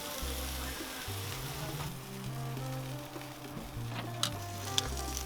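Chicken breast sizzles faintly on a Char-Griller charcoal grill, a soft steady fry with occasional small ticks and pops, heard alone.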